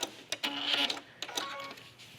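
Sewing machine topstitching a trench coat hem, a short run of quick mechanical stitching bursts with brief pauses, close and moderately quiet, with no voices.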